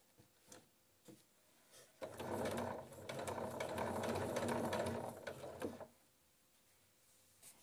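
Domestic sewing machine starting a seam on thick fabric: a few soft clicks and taps, then about four seconds of steady close motor whirring and needle chatter that stops abruptly, followed by light handling clicks.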